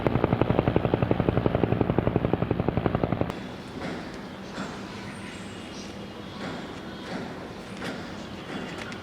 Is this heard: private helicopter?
yes